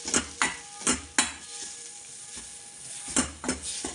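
Peanuts sautéed in oil in a pan while making masala methi, heard as a steady low sizzle broken by repeated sharp scraping stirs and clinks of a spoon against the pan, with no talking.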